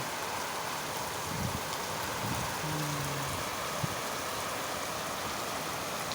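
Rain falls steadily over fields while water flows along, a broad, even wash of noise at moderate level with a couple of faint low tones passing briefly, no speech.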